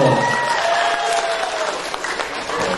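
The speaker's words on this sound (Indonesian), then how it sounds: "Nah, tepuk tangan untuk Kak Pika dulu." Crowd at a seminar breaks into a short round of even, full applause, close and loud throughout, with faint voices mixed underneath.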